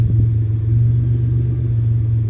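Engine of a 1987 Pontiac Fiero idling with a steady low rumble and a faint uneven pulse, close and loud, no voices.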